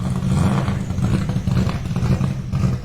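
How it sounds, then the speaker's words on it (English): Car engine with a lumpy cam idling nearby, a loud, uneven rumbling and rattling chop that pulses steadily for the whole stretch with no one talking. "Listen to the rattle of the cams of that engine. That's a lumpy cam."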